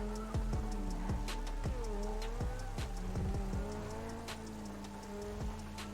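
In GTA 5, rain falls steadily on surfaces with sharp droplet ticks while a car engine hums underneath during driving, faint and even throughout.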